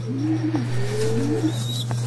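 Soft cooing of European Mong pigeons, a couple of low rolling coos over a steady low electrical hum, with a faint higher chirp near the end.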